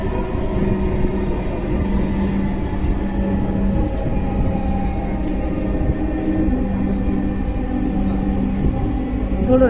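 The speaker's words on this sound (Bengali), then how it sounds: "This train is bound for Motijheel. Next station is" A Dhaka metro train running between stations on the line toward Motijheel near Farmgate gives a loud, steady rumble with a constant mechanical hum throughout, heard from inside the carriage.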